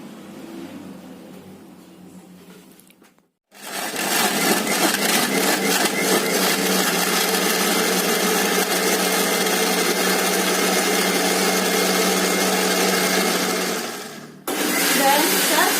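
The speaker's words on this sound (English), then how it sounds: "turn on the blender for about 3 minutes." Kitchen blender whirring as it mixes orange juice with milk, a loud steady motor drone that starts abruptly after a short quiet pause, runs continuously for about eleven seconds, dips briefly, then resumes.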